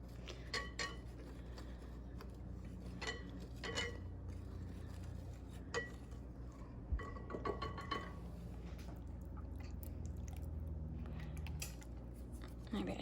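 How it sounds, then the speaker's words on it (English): Wet ingredients for pumpkin waffles made with fresh pumpkin puree being whisked in a bowl, a steady run of quick clinking, scraping strokes at close range with a low background hum. "Now I'm going to whisk them separately"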